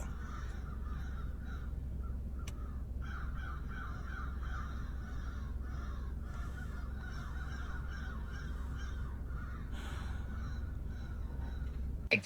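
A large flock of crows caws steadily over the low rumble of a car driving nearby, with calls overlapping throughout and a few sharper caws standing out.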